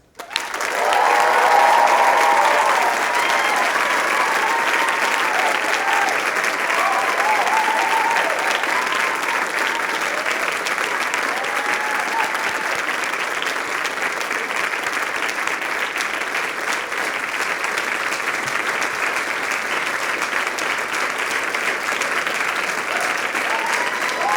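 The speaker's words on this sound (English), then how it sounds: "Now it's your turn to honor them with cheers and applause." A large convocation hall full of Dalhousie medical graduates and guests erupts in sustained cheering and applause, a dense wash of clapping with whoops that holds steadily for over twenty seconds.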